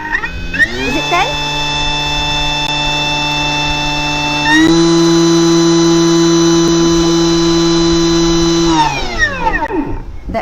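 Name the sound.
blender motor running at 10,000 RPM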